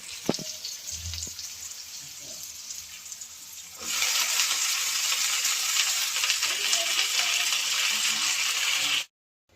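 Greens dropped into a hot frying pan with oil and turmeric, a few clatters and taps first, then a loud, sudden, broad sizzle that holds steady for several seconds before cutting off abruptly.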